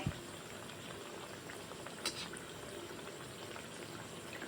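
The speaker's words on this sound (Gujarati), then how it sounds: "ને કચોરીને આપણે મીડિયમ ગેસ ઉપર તળવાનું છે" Jodhpur-style onion kachori fry in hot oil over a medium flame, a steady, fairly faint bubbling hiss running throughout with a couple of brief louder crackles.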